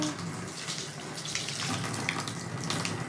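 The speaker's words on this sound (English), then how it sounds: "Oh, there's water going in my tub." Water gushes from a faucet into a bathtub in a renovated bathroom, a steady loud splashing rush that continues unbroken and close, with no voices.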